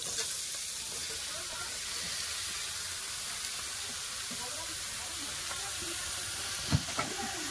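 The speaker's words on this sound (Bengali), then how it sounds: "এবার দিয়ে দেবো লাউ, কেটে রাখা লাউ আর পেঁয়াজ একসাথে দিয়ে দেবো।" Sliced bottle gourd and onion hitting a pan of fried prawns, giving a steady, quiet hiss of frying that runs throughout, with a couple of brief knocks near the end.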